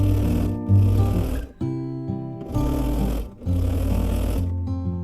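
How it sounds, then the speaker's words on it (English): A sewing machine stitching binding onto a baby quilt runs in loud, rapid bursts, pausing briefly three times between runs of steady mechanical whirring. "So I'll just keep on stitching that on."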